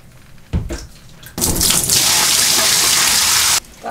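Washed wool fleece pressed by hand to force water out, giving a short splash followed by a loud, steady rush of draining water lasting a couple of seconds before it stops abruptly.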